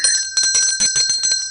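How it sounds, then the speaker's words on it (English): A small bright bell rings in rapid repeated strikes, about eight quick metallic dings with a sustained ringing tone, close and loud, rung for a caller on a radio phone-in show. "let me ring the bell for you"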